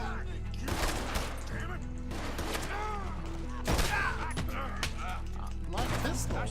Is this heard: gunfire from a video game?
yes